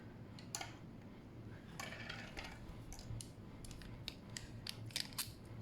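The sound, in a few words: Delike New Moon 2 fountain pen nib writing on paper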